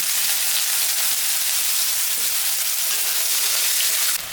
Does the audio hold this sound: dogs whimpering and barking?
no